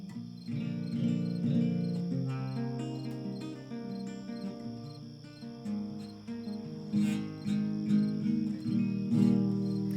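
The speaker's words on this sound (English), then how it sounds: "maybe some crickets." Crickets chirp in a steady, continuous sound effect during a livestream, layered over sustained tonal sounds with no voices.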